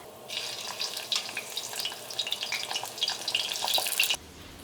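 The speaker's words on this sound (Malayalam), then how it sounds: "ഇനി ബാക്കിയുള്ളതും കൂടിയിട്ട് ഇങ്ങനെ തന്നെ ഫ്രൈ ചെയ്തെടുക്കാം." Potatoes and cauliflower frying in hot oil, a steady loud sizzle with crackling bursts that runs alone for about four seconds, then cuts off abruptly near the end.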